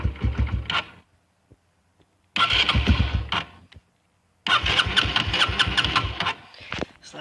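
A Honda CRF125F dirt bike engine is cranked cold with the choke off, in three separate bursts of rapid, sputtering cranking and chugging, each cutting out into silence without catching.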